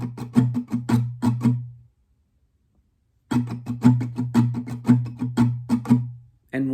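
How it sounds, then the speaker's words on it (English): Acoustic guitar playing strumming pattern 1B for a song, a simpler run of rhythmic down-and-up strokes, close and solo, broken by a silent gap of over a second before the pattern repeats. "Patterns 1B and 1C are just easier options, so 1B would sound like this."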